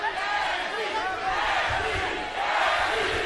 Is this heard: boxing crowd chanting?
yes